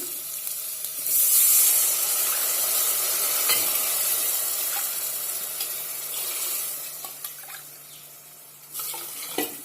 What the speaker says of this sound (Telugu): వేగినాయండి ఇప్పుడు నీళ్ళు పోసేసుకోవాలి